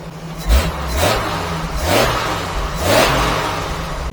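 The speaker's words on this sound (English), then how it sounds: "Raw, straight 6, inline horsepower." Straight-six inline engine of a car revving in repeated surges, each climb rising and falling about once a second, loud and close with a steady low drone underneath.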